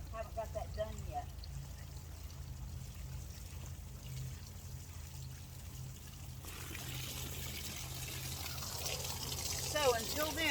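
Water running from an outdoor garden tap in a yard, a steady trickling flow throughout, with a person talking faintly near the start and end.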